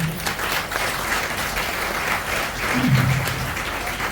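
Steady applause from an audience, sustained throughout with a slight swell near the end and no voices over it.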